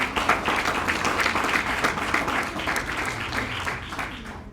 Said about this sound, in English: So I think we can start with a round of applause.